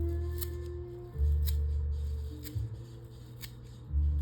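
Scissors snip in a slow, regular series of about four crisp cuts, one roughly every second, trimming a deer hair fly shaped into a carp dough ball, close and clear over a low steady hum.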